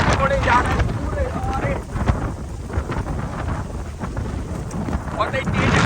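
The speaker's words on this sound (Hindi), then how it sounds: "बहुत ही तेज हवा है भैया।" Very strong storm wind tears across open farm fields, roaring continuously and buffeting the microphone in heavy, uneven gusts that swell and ease without a break.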